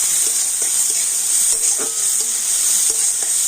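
Chopped onion and green chillies fry in a pan with a loud, close, continuous sizzle, while a spatula scrapes and taps in a loose, regular rhythm. No talking.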